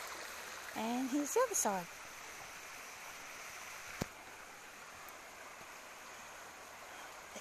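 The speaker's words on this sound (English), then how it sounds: "This is a cobble bottom creek. Badger Creek." Cobble-bottom Badger Creek in Victoria flows in a steady, soft wash of water heard throughout, with someone briefly speaking near the start and a single faint knock midway.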